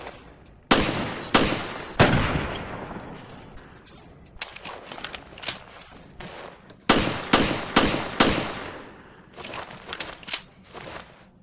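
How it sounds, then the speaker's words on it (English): A Beretta M92F handgun fires in Resident Evil: Revelations: a series of sharp, loud single gunshots, some in quick pairs and runs, with brief mechanical clicks between them and no talking. "Alright, so to test the Beretta M92F."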